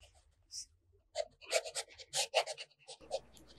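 A fountain pen nib writes on Clairefontaine paper in soft, close scratches. The strokes come in short irregular bursts, quiet and alone.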